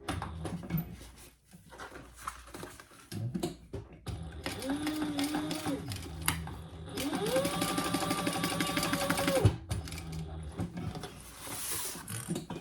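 A sewing machine back stitches across a duffle bag in short bursts of rapid, close mechanical whirring with brief pauses between runs.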